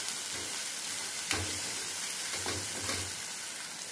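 Ground masala paste frying with onions in hot oil in a kadhai, a dense continuous sizzle with a few louder bursts and scraping stir strokes, heard close with no voices.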